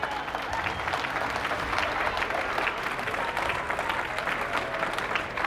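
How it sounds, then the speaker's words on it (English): Audience at a Khaki Ball honoring newly pinned Navy chiefs breaks into sustained applause, a dense steady wash of clapping that fills the room at even loudness throughout. "give me a round of applause."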